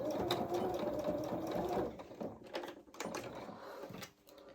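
A sewing machine runs a curved crotch seam on small doll coveralls, a close steady whirring stitch for about two seconds, then shorter bursts as it reverses at the end, with faint handling clicks.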